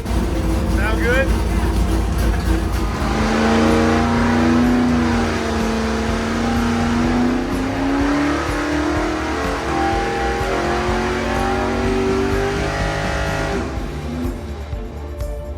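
A 406 nitrous small-block Chevy street engine roars loudly on a dyno. Its pitch climbs steadily through a long full-throttle pull and then drops away near the end.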